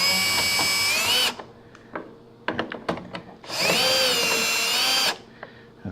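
A power drill backs out hex screws inside a GE gas dryer during a propane conversion, two loud close whirring bursts with a stretch of clicks and rattling handling noise between them.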